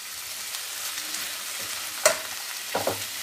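Quinoa grains tipped into a hot pan and stirred, giving a soft steady sizzle with a sharper scrape and clatter near the middle and a couple of lighter knocks toward the end.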